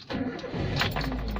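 A car with a slow-crank no-start problem turns over and catches, its engine firing and settling into a steady, loud idle close by.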